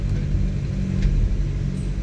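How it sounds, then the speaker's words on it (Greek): Small local town bus in Samos with its engine running, a steady low idling rumble, close and continuous, no talking. "Αυτό είναι το λεωφοριάκι, συγκοινωνία, Τσάμου,"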